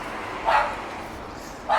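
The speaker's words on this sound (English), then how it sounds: "Dog barking." A dog on the Costa del Sol near Benalmadena and Torremolinos gives two short barks about a second apart, moderately near, over a steady background hum.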